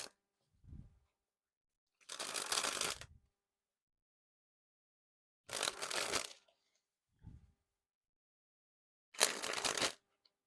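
Marvel Pop playing cards are riffle-shuffled three times, each a crisp, close fluttering burst lasting about a second, with soft taps of the deck being squared between shuffles in a quiet room.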